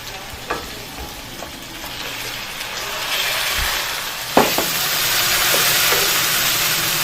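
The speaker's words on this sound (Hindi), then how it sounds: "चिकन को फ्राई करते हुए तकरीबन 5 से 6 मिनट हो गए हैं" Chicken pieces fry in a pan of oil with a steady, loud sizzle and hiss throughout, broken by a few sharp clinks and scrapes of stirring, with no voices.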